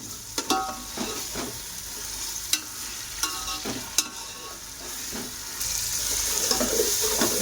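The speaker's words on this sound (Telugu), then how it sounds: "అల్లం వెల్లుల్లి పేస్ట్ కొంచెం ఫ్రై అయ్యిందండి." Ginger garlic paste fries in a hot pan for a prawn biryani, sizzling steadily while a spoon scrapes and clinks through it in uneven strokes. The hiss swells louder toward the end. No one speaks.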